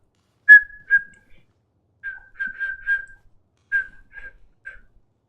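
Someone whistles a melody in short clear phrases separated by pauses, close and fairly loud over silence, while playing Dragon's Dogma 2 on PC.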